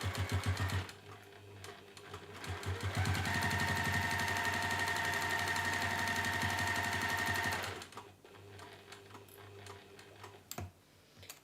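A sewing machine top stitches a fabric corner-cover bookmark with a tassel, running in a fast, steady burst of stitching for several seconds before stopping, followed by a few light handling clicks.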